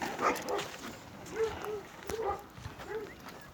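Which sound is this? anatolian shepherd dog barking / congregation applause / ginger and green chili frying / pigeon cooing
anatolian shepherd dog barking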